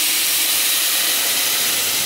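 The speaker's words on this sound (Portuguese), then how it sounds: "Eu botei agora, gente, a água, ó. Já tá aqui quase fervendo." A pot of water nearly boiling on a home stove, giving a loud, continuous steamy hiss that stays level throughout, with no talking.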